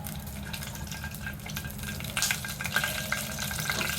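Whole garam masala of cinnamon, cardamom, cloves and bay leaves sizzling and being stirred in hot oil: a steady, moderate frying hiss with scraping stir noises that grow a bit livelier partway through.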